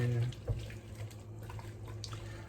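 Water runs into a soup pot for vegetable soup in a home kitchen, a steady faint rushing flow throughout, with a low hum underneath.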